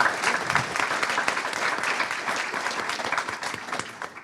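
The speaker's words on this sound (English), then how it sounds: "a round of applause for A.G. Holder" An audience at a redistricting panel event bursts into steady, sustained applause, dense clapping from many hands holding even throughout.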